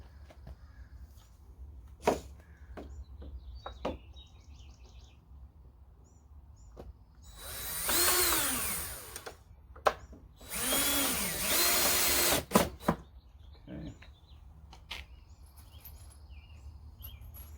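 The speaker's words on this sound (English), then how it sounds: "so let's go ahead and screw those in" A power drill drives screws into a wooden bench seat in two sustained loud bursts of whirring, with a few sharp knocks and clicks between them and quiet gaps around them.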